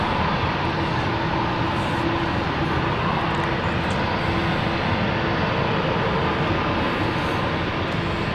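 A jet aircraft departing London City Airport, its broad engine roar steady and loud throughout, with no voices over it.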